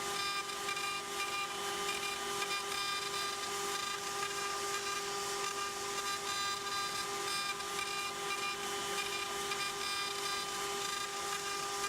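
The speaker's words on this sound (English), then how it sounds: "A carving like this done with a V-bit is an extremely difficult task." A CNC machine carves with a V-bit, giving off a continuous, even mechanical whine with layered steady tones and no pauses.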